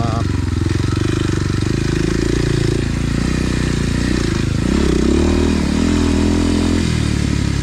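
Kawasaki KLX 230 dirt bike ridden on a trail, its single-cylinder engine droning steadily close by, with shifting pitch as the throttle rises and falls, plus some rattling and scraping throughout.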